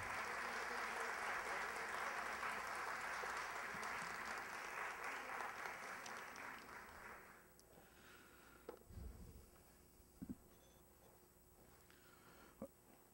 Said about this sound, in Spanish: El aplauso para Sonia Goldenberg.